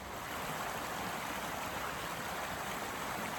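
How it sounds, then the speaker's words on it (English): Pendle Water, a stream beside a walking path by an old sluice gate, rushes past close by in a steady, dense broadband wash of flowing water with no voices over it. "I really enjoyed the sound of the stream on our walk."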